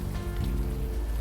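Steady rain in the video game Unavowed patters down, dense and continuous at moderate volume, with no speech over it.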